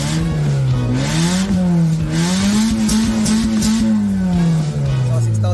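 A Ford Escape engine revving up to about 6,000 RPM after a computer box repair, a loud close steady drone whose pitch climbs, holds high and then falls away, heard alone.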